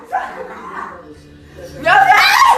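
A dog barks and yips loudly near the end, over someone talking excitedly through most of the short stretch.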